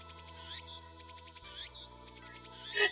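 A cicada in the Steins;Gate video game gives rapid, buzzy electronic chirps in short repeating pulses, faint over a low steady hum, with a brief louder call at the end.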